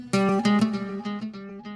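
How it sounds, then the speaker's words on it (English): A brief electric guitar fill of a few plucked notes, each one ringing out and trailing off into soft repeating delay echoes. "I have some guitar fills right here."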